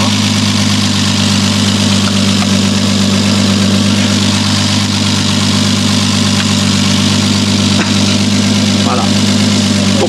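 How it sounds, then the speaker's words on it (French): A loud car engine idles steadily with a deep, constant rumble and low vibration, while voices talk over it. "Il est bruyant, hein, ce putain de moteur."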